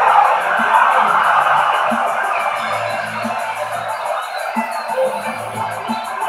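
Arena crowd cheering in the wrestling game WWE 2K17 at a Dallas pay-per-view, a steady broad roar with scattered whoops and yells, fairly loud and fading slightly over time, alone.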